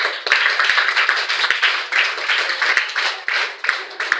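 A church congregation clapping in acclaim during a sermon: dense, continuous rhythmic handclaps from many people, loud and close, with no talk over it.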